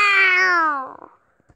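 A single cat gives one loud, close meow that slides downward in pitch and fades within about a second, followed by a few faint clicks.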